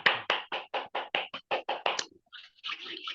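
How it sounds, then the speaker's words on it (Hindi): A single person claps about ten times in a quick, steady rhythm during a morning affirmation meditation session. The clapping is close and fairly loud, then stops and gives way to a brief soft rustle. "चलिए ताली बजा रहे हैं एक आदमी"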